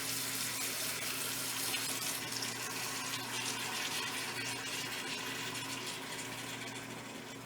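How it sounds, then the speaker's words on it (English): A steady stream of water pours and splashes into an Instant Pot with beans, continuously for several seconds, fairly loud and close, gradually easing toward the end. "we're going to add some water"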